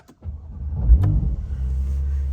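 A Porsche 911 Carrera S 992 coupe with a 3.0-litre turbo petrol engine and PDK gearbox fires up on keyless start, a brief whirr giving way to a deep, loud rumble that settles into a steady close idle.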